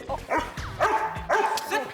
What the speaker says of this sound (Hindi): शेरू तुम्हें देखकर भौंकता ही रहेगा।